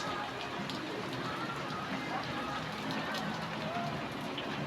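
Steady rain on Christmas Day makes a dense, continuous hiss of drops on surfaces, even and unbroken throughout with no distinct peaks.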